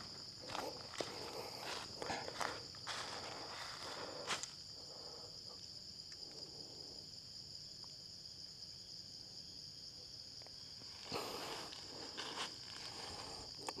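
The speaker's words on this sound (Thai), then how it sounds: "แมลงค่อนข้างเยอะมากนะครับ" Crickets and other insects chirp in a dense, continuous high trill outdoors on a hot night, with scattered rustles and footstep-like scuffs nearby.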